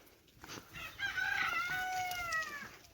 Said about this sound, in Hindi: मुर्गा देखें, अभी मुर्गे को निकाल देते हैं।